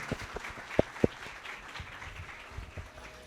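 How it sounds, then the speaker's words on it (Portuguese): A panel audience at a business conference gives a short, faint round of applause, with a couple of sharper claps standing out against a quiet, thin patter. "uma salva de palmas"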